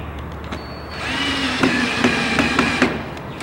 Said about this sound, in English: you can take either a drill or a Phillips head screwdriver. I'm using a drill for a little bit quicker